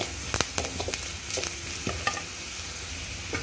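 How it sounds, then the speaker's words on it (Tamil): Onion cooking with chilli powder and garam masala in a pan for paratha stuffing, a soft continuous sizzle broken by several sharp spatula stirring scrapes, close by. "ஆட் பண்ணிட்டு வெங்காயத்து கூடவே நல்லா வதக்கி விடுங்க"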